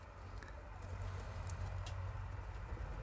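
Pigeons coo softly inside a south-facing loft, a low steady murmur over a constant background hum, with no talk.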